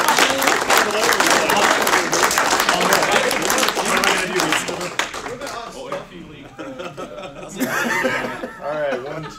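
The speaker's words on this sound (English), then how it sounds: "So give them a round of applause." An audience bursts into applause for the staff at a Masters results event, dense clapping mixed with chuckles and laughter for several seconds, then thinning as a few voices talk over the fading claps.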